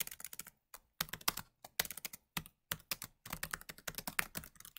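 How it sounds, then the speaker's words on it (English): Fingers tap out bursts of quick keystrokes on a computer keyboard, close and clear, with short pauses between clusters of clicks and no voices. "we're going to type golf"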